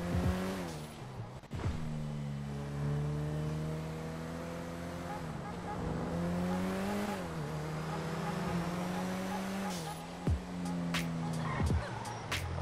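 A BMW 750 Li in GTA V drives along with a steady engine drone whose pitch rises and falls as it speeds up and eases off, with a few sharp tire squeals and clicks near the end.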